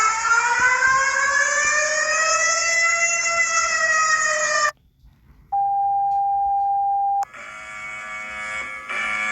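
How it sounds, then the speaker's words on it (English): A loud, steady multi-tone emergency alert alarm drones alone for several seconds, cuts to silence, then a single sustained electronic tone follows and gives way to a harsher buzzing alert. "Rating EAS alarms from different countries"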